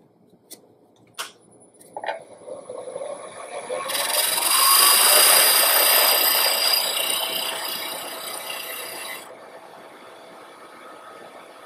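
Woodturning gouge cutting wood on a lathe, a rough broadband cut rising from about four seconds, sustained for several seconds and then easing off, preceded by a few short knocks, with the lathe running beneath.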